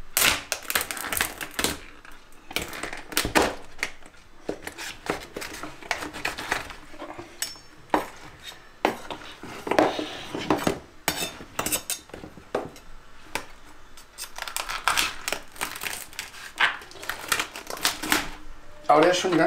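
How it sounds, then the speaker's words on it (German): A grilled lobster is cut into small pieces with sharp, irregular clicks and crunches of a knife on shell and board, close by, with talk between the cuts. "Aber der ist schon eine ganze Ecke einfacher klein zu schneiden als mein Lobster Heiligabend"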